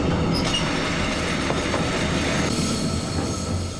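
A freight train hauling 26 long steel rails rolls through a curve, wheels squealing and clattering continuously, loud and close with a steady rumble and no voices.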